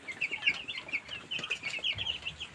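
Poultry chickens cluck in a rapid, continuous stream of short calls, several birds close together, moderately loud and without talk.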